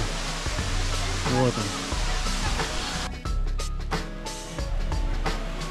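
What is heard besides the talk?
Gebeus waterfall, flowing water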